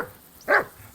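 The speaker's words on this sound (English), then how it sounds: "Whistle at that mutt of yours to stop barking!" A single short dog bark sounds once in the medieval video game Kingdom Come Deliverance 2, a brief clear yelp against a quiet background.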